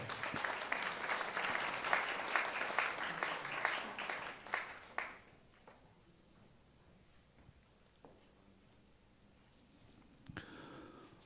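Applause from the audience at a university graduation and degree-conferral ceremony after a master's degree in theology is awarded. The clapping is full and steady for about five seconds, then fades to a quiet hall with scattered small noises and a brief stir near the end.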